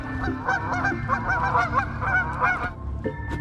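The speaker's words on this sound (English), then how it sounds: "The geese aren't very happy with me." Several geese honk repeatedly nearby, a busy cluster of harsh calls overlapping for a few seconds.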